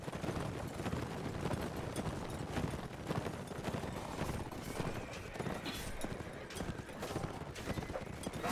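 Horse hooves clip-clop in a steady galloping rhythm in the Mount & Blade Warband game, with occasional neighs and whinnies mixed in and faint battle noise behind, continuous and fairly close.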